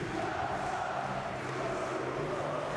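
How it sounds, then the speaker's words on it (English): Basketball fans at a FIBA World Cup European qualifier between Montenegro and Latvia roar in the stands, a steady, dense crowd noise with no breaks across the whole stretch. "Listen to the crowd now. Their celebrations start."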